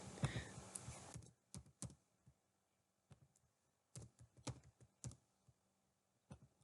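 Clicks of a computer keyboard while a name is typed into a Microsoft Excel data entry form, a brief flurry of keystrokes then scattered taps and small clusters separated by quiet pauses.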